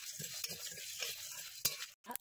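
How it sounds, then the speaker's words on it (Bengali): Dried chillies, coriander and cumin frying in a wok with a steady soft sizzle and repeated scraping strokes of a stirring spoon, close and fairly quiet, with a sharp clink near the end. "জিরে দিয়ে ভালো করে নাড়াচাড়া করে ভেজে নেব।"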